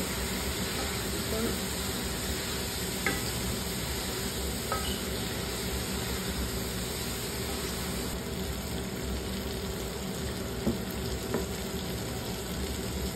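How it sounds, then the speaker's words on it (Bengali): A pan sizzling steadily as soy sauce and oyster sauce go in, a constant hiss with faint occasional clinks, heard close throughout. "সয়া সস আর ওয়েস্টার সস দিয়ে দিচ্ছি।"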